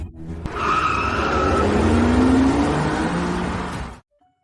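A car pulling away with a sharp tire squeal and a rising engine note that holds loud for several seconds, then cuts off abruptly into silence.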